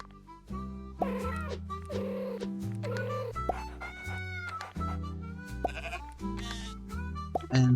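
Sheep bleats pop up repeatedly over bouncy, stepping electronic game music, loud and close.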